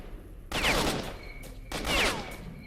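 Two bursts of rapid gunfire in S.T.A.L.K.E.R.: Shadow of Chernobyl crackle loudly, each about a second long with a short gap between them, with a sharp, processed game-like quality.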